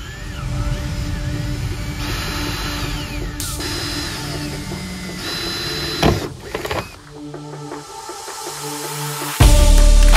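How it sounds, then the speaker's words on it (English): A power drill whirs steadily for several seconds drilling out rivets on a Jeep JKU airbox, then stops with a few clunks and a short burst of louder mechanical noise near the end. "you will need to drill out the 2 rivets that attach the factory snorkel to the airbox"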